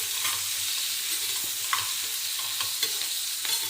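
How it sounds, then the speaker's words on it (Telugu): Onions frying to golden brown in oil, a steady close sizzle with soft scraping stirs throughout, no talking. "ఉల్లిపాయలు మాడకుండా గోల్డెన్ బ్రౌన్ వచ్చే వరకు వేయించుకోవాలి."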